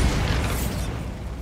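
A Bombarda blasting spell in a Harry Potter video game bursts out as a dense, roaring blast that fills the whole moment and then trails off into a rumbling decay.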